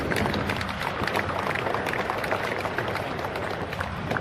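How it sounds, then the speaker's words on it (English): Audience applause at the Geneva motor show unveiling of the Rimac C2 electric hypercar, a dense, steady wash of clapping from a large indoor crowd lasting throughout at even loudness. "A big applause here for Adriano."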